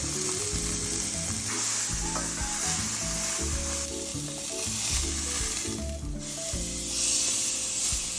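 A fillet steak sears in a hot pan, giving a loud, continuous sizzle and crackle of frying fat with shifting hiss that carries on unbroken and alone.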